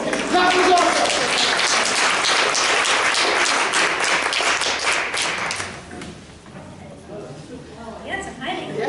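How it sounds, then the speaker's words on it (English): Audience at a panel event clapping for themselves, a lively burst of many hands that fades out after about five seconds into quieter room sound with people talking. "Give yourselves a round of applause."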